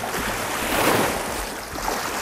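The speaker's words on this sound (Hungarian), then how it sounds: "hullámok is ide csapnak" Waves wash and splash against the stony, slippery shore of Lake Balaton, a steady near roar of broken water with wind mixed in, no voices.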